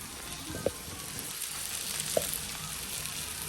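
Chillies sizzling in oil in a pan for a home-cooked lunch, a steady crackling fry with a couple of sharp pops, close and moderately quiet.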